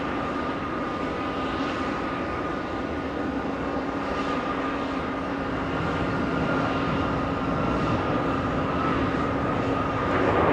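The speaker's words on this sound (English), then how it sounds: "Flying in from Anchorage, Alaska, 6 hours of flight time, a 777." A Boeing 777 cargo freighter arriving at JFK from Anchorage produces a loud, sustained jet engine roar with a steady whine that slowly grows stronger, close by and without voices.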